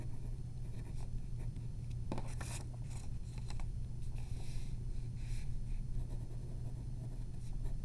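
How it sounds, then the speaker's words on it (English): A pen scratches steadily across paper while test corrections are written, soft continuous scribbling with a few sharper strokes over a constant low hum. "So you write just like this."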